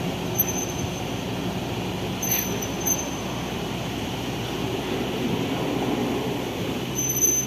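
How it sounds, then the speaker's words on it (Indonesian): A rail is pulled along the track during rail laying for the Jakarta-Bandung high-speed railway, inside a tunnel near Purwakarta. It makes a steady, dense grinding rumble with faint high squeals, continuous and fairly loud throughout. "semakin menurun kecepatan penarikan rel."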